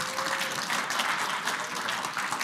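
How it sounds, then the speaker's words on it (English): Audience applause at a talk, a steady dense wash of clapping from a crowd that holds evenly throughout. "Thank you for that completely unprompted applause."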